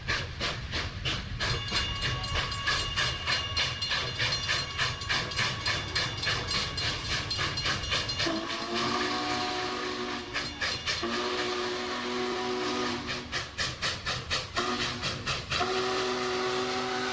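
Union Pacific 844 live steam locomotive running loud and close, a steady rhythmic chuffing and clatter of the train, joined midway by several long, sustained blasts of its steam whistle.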